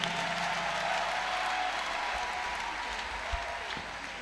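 A congregation gathered for a night of praise and thanksgiving, applauding and cheering as a dense, steady wash of clapping fills the whole stretch, fairly loud and sustained without pause.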